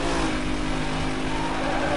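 Steady, loud engine drone from a racing car in the video game Need for Speed Most Wanted, holding a constant revving pitch throughout with no talking.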